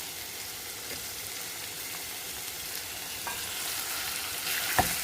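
Paneer pieces fry with onions and turmeric in a pan, giving a steady soft sizzle and crackle throughout with a few brief sharper pops near the end, no voices.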